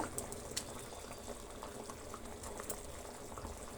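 A pot of saagu curry bubbles and simmers steadily at a low level, with soft popping and gurgling throughout and no talking.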